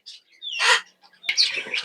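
Two bursts of sharp, high chirping and squawking from parrots close by at a parrot market, separated by a brief pause.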